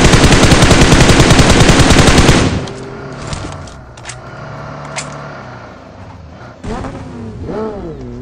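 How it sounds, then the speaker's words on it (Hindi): Rapid gunfire opens loudly in a battle royale video game, then a vehicle engine drones and revs up from behind, rising in pitch as it approaches and stays moderately loud. "पीछे से एक गाड़ी आ जाती है"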